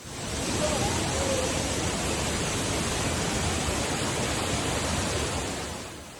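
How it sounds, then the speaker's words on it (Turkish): Kaval Waterfall in Hakkari makes a dense, steady roar of rushing water, loud and unbroken throughout. "Doğa tutkunlarının bu haftaki durağı Kaval Şelalesi oldu."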